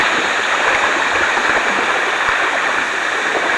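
Creek water rushes steadily beneath a swinging bridge, a dense, continuous hiss and gurgle of shallow flowing water heard close and loud, with no voices.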